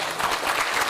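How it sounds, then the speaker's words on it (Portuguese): Steady, dense audience applause at a Portuguese-language World Water Week event and lounge inauguration, a continuous wash of many hands clapping at even loudness throughout, with no talk over it. "uma salva de palmas mais uma vez"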